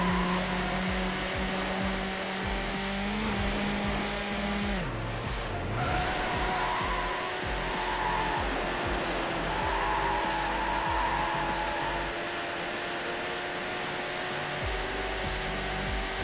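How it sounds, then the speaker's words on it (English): A race car in Need for Speed Hot Pursuit 2 drops gears into a sweeping left-hand corner, the steady engine whine dipping then climbing again as tires squeal and skid through the bend, loud and continuous throughout. "I'm gonna downshift as we enter the sweeper left-hander here."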